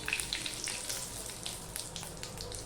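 Panch phoron seeds and a bay leaf broken in two sizzle in hot oil in a pan, a steady close crackle with scattered sharp pops and no talk.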